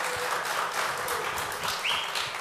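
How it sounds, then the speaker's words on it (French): Audience at a cybersecurity debate clapping at a moderate, somewhat distant level, a soft steady patter of applause with a faint tonal sound near the end. "Il faut l'applaudir."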